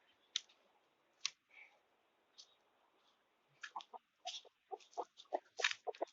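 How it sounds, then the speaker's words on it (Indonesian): A rooster clucks in short, sharp bursts, sparse at first then coming in quicker clusters, close and fairly faint in a quiet outdoor setting. "itu karyawan Jago, jambul namanya"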